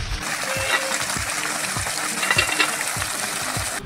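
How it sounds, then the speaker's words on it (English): Water leaks through an old concrete dam dating from the 1800s at the end of Bulldog Lake, running in a continuous close hiss and trickle with soft irregular low thumps. "the dam has got a leak in it right here and it's slowly eroding that concrete."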